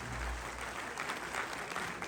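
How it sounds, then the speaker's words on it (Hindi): An audience applauds through a speech event honoring a father-in-law, a steady moderate wash of clapping lasting about two seconds with a low rumble at the start. "एक बार जोरदार वाली तालियां उनके माध्यम से होनी चाहिए"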